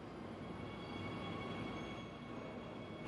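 Steady rumble of a Gimpo Goldline subway train running during a cold-wave morning commute, a continuous broadband roar with faint high tonal whine, close and fairly even throughout without voices.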